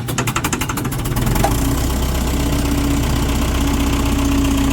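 A 1970 JCB 3C backhoe loader's diesel engine cranks in rapid pulses, catches, then settles into a loud, steady, close-up idle with a rough, throbbing rumble.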